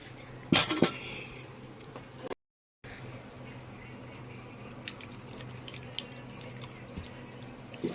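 A wok is set down on a stove with a single sharp metallic clank near the start, followed by quiet kitchen clinks and faint dripping water.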